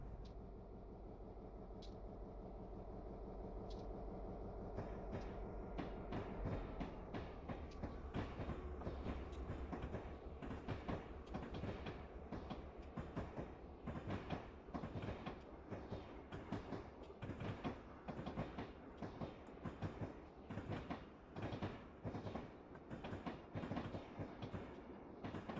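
A train running in Train Simulator 2021 on an Alaska switching job, with a low steady rumble at the start that builds into a continuous, rhythmic clickety-clack of wheels over the rail joints.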